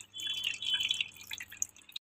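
Water drips and trickles inside an IFB front-load washing machine running a hot descaling cycle, a close, soft, uneven patter that stops abruptly.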